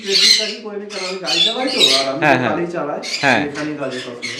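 Conure parrots at a bird farm squawk loudly and repeatedly in harsh, close calls that come in quick bursts, with speech mixed in among them.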